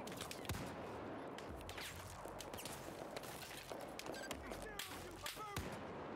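Gunfire in the Battlefield 4 campaign's Singapore mission, with sharp repeated shots and thuds over a dense rumbling battle backdrop, and a voice talking underneath.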